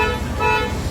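A Toyota Revo's manual car horn sounds in one continuous toot for about a second, close and fairly loud, in a car with a horn fault that only honks when the steering wheel is turned.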